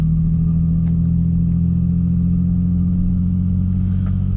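Steady, loud low exhaust drone from a car with an aftermarket exhaust while driving, a constant rumbling hum with no revving peaks and no talking.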